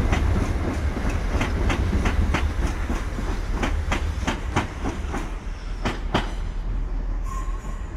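A Southern Railway class 377 twelve-carriage electric train departs Redhill station, with loud rhythmic clickety-clack of wheels over rail joints over a heavy low rumble, close and continuous.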